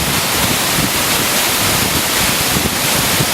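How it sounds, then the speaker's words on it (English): A big clear-stream waterfall tumbling down a mountainside near Valdez, Alaska, gives a loud, steady, close-up roar of rushing water with no voices. "Kind of wandering around, stumble upon this big old waterfall."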